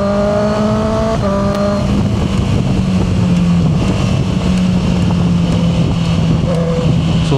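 A Honda CB650R E-Clutch motorcycle engine drones loud and close as it shifts gears, its pitch dropping with a gear change early on and then holding a steady note beneath wind rush.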